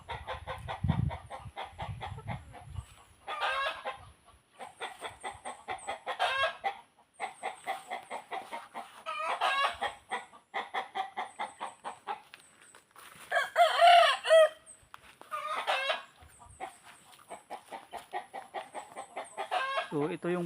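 A flock of farm chickens clucks and crows in repeated bursts, with a rooster's loud cock-a-doodle-doo standing out near the middle, some birds close and others farther off.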